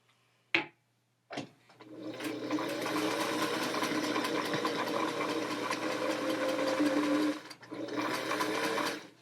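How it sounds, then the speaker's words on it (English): A sewing machine stitches a seam while sewing a sharp corner, a steady close mechanical whir that starts after a couple of brief clicks, pauses briefly near the end, then resumes. "Okay, and then I'm going to stitch."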